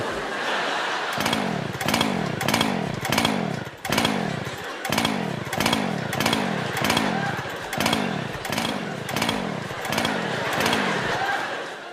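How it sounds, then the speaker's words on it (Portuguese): A chainsaw on an auditorium stage being pull-started repeatedly, about a dozen rhythmic cranking pulls with sputtering bursts, each rising and falling, loud and close, while the engine fails to catch and run. "Mas a serra que não queria ligar aumentou ainda mais a tensão no auditório."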